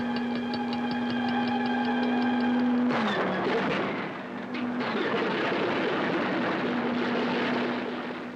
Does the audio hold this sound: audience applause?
no